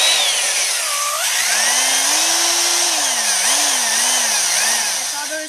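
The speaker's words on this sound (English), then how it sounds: "Now this is a power drill." A power drill boring a hole for a train bell handle runs continuously at close range, a loud steady whine whose pitch rises and dips as the load changes, without a break.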